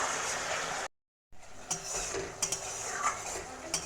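Spice paste with green chillies fries in oil, a bright hissing sizzle close by with scraping spoon strokes, cut by a brief silent gap before the frying and stirring resume.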